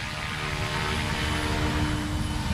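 Brand new Goosky RS4 or Goblin RAW 420 RC helicopter hovering without auto level, a loud continuous rotor buzz and whine filling the scene close by, steady and unbroken.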